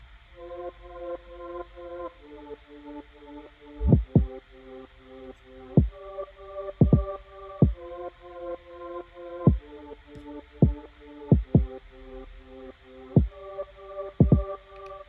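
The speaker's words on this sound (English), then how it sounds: "Didn't mean to be playing the kick there" Deep, punchy kick drum hits land irregularly over a soft sustained synth pad, some in quick doubles, fairly loud against the quiet backdrop.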